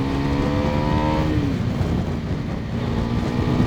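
Bajaj NS400Z motorcycle in fourth gear, firmware A21 sports mode, engine note climbing steadily under throttle with strong wind rush, loud and close from the rider's position.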